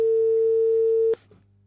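A telephone busy signal after a dropped call: one loud, steady electronic tone held for about a second before cutting off abruptly, leaving only a faint low hum.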